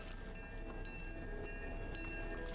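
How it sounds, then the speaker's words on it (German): Train rumbling steadily through a Fortnite match, a continuous close mechanical roll with faint tonal whine and periodic clacking, heard alone without talk. "Der Zug ist auch da, ne?"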